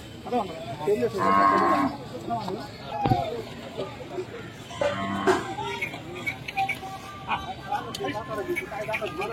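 Cattle lowing at a busy bull market in Chalisgaon, Maharashtra, with several loud, drawn-out moos rising over a steady crowd babble and people talking nearby.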